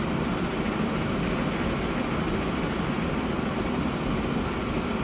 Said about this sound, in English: You probably are the fastest train on this line right now.